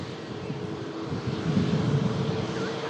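A Ryanair airliner vacates the runway, its engines giving a soft, distant, steady rumble that swells slightly toward the middle, with no talking.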